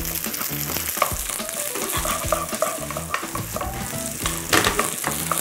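Cooked rice stir-fried in a pan for garlic steak rice, with a steady loud sizzle and rhythmic scraping and tossing of a spatula, no voices.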